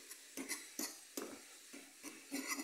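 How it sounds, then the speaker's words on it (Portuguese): A fork stirs corn-and-butter flavored instant noodles in a pot, giving a series of soft scraping, sloshing strokes at an irregular rhythm over a steady low sizzle, quiet and close with no talking. "usando o garfo pra misturar aqui"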